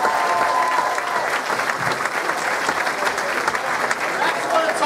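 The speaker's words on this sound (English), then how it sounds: "Give him a round of applause." Steady audience applause fills a comedy club after a stand-up's guest set, dense and continuous throughout, with a few voices faintly mixed in under the clapping.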